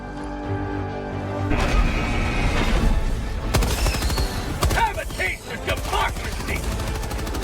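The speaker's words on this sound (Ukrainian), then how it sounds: "Ну і ще дадуть пафосно з кулемета постріляти." Bursts of rapid machine-gun fire in Helldivers 2 with booming impacts and clattering effects, loud and dense, overlapping in a busy game soundscape.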